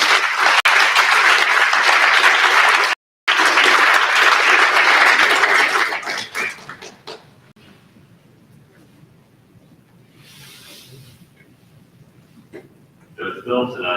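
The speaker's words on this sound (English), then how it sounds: "How about a round of applause for James?" An audience gives a round of applause at a Municipal Court judge's oath-taking ceremony. The loud, dense clapping lasts about six seconds, then fades to quiet room noise, with faint voices near the end.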